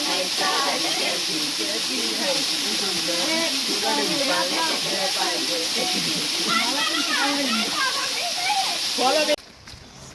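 A waterfall where people are bathing pours in a continuous hissing rush, with voices talking and calling over it throughout before the sound cuts off abruptly at the end.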